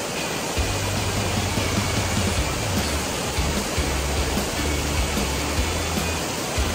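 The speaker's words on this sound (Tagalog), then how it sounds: "Nakaka-relax yung ano guys, yung tunog ng falls." Asik-Asik Falls, a curtain waterfall in Cotabato, roars steadily, a dense continuous rush of falling water close by with no voices.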